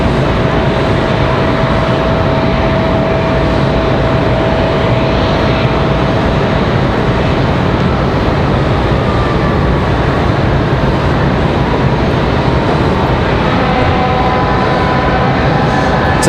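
An airliner arriving from Denver approaches Raleigh-Durham International, its loud continuous jet roar filling the whole stretch, steady and close, with no voices.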